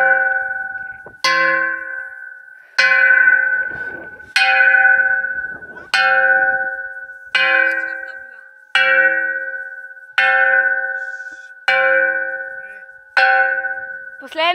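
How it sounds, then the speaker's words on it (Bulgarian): A bell at a mountain hut near Botev peak is struck for noon, each loud, resonant clang ringing out and decaying before the next, about ten strikes at an even, unhurried pace. "Сега ще бия камбаната за 12 часа."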